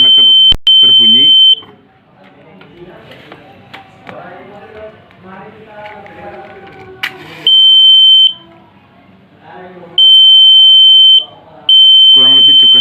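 A microcontroller-based flame detector's buzzer beeps at a candle flame: steady high electronic tones in several separate bursts, alternating with stretches of speech from a nearby voice.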